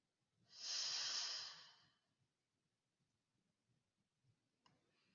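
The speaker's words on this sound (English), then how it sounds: "Literally, we're just sitting here and we're breathing." One slow, quiet breath with a soft hiss lasts about a second and a half during seated meditation, then near silence with faint low rumbles and a tiny click.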